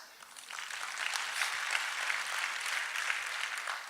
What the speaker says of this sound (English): Does that make sense by a round of applause?